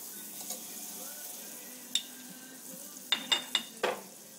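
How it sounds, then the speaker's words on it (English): Butter sizzles softly in a warm pan for country gravy, a faint steady crackle broken by a few sharper clinks and scrapes of a utensil near the end. "put in your butter. It's going to sizzle because the pan's a little bit warm."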